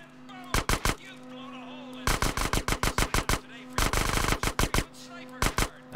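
Enemy gunfire in the video game GTA San Andreas comes as loud, close bursts of rapid automatic shots separated by short pauses, with a steady background hum between volleys.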